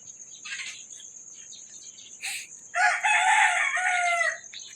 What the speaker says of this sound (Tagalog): yan narinig nyo tunog na ng manok